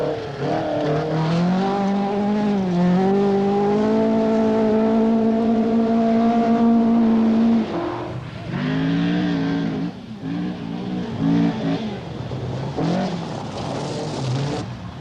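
Rally cars from a stage event where a Manta competes, engines roaring loudly and continuously with rising and falling pitch as they accelerate and shift, close by with no talk.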